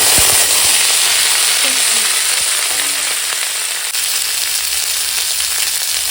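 Dried chili, bay leaf and five-spice seeds sizzle in hot oil in a home kitchen, a loud, steady close-up crackle with a few sharp pops near the start, and no talk.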